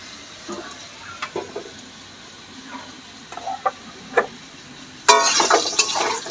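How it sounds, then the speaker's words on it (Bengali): Fried potatoes hit hot oil in a pan while cooking hilsa fish, bursting into a loud, bright sizzle after a few scattered stirring clinks, the frying continuing close and strong. "দাঁড়াও ভেজে রাখা আলুগুলো দিয়ে দিলাম"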